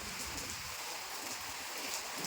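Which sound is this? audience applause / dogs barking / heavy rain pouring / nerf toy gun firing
heavy rain pouring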